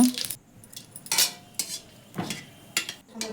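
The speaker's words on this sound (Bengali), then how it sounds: "এখানে কড়াইতে আর একটু তেল দিয়ে দিলাম তেল দিয়ে এখন একটু জিরা" Cumin seeds tipped into hot oil in a karahi, with intermittent metal spoon scrapes and clinks against the pan over a faint background sizzle, heard close up.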